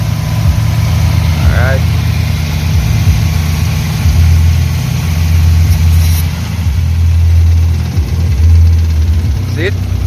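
A 1999 Toyota Corolla engine runs loud and close at a steady idle with a deep rumble and slight fluctuations, after injector cleaning and reconnecting the air hose, with a brief spoken word over it.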